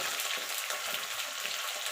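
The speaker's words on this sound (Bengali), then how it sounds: "কাটানো শিমগুলো দিয়ে দিয়েছি এবার সিমগুলোকে একটু এপিট করে একটু ভাজা লাল লাল করে ভাজা ভাজা করে নেব" Cut flat beans fry in oil in a pan, producing a steady, dense, bright sizzle that stays constant and close throughout, with no talking.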